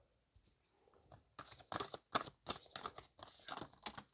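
Large tarot cards are shuffled and handled, making soft crinkly papery rustles and flicks that come in irregular bursts close by, alone and fairly quiet.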